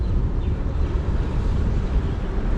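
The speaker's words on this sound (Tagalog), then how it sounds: "Malakas yung hangin, tapos malakas yung alon din." Strong wind buffets the microphone in a heavy, continuous rumble, with a low roar of water beneath it and no voices.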